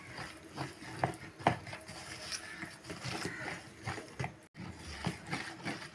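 Gram flour batter for ghee Mysore pak is whisked in a bowl, an irregular close scraping and tapping with faint clatter, a brief drop-out partway through.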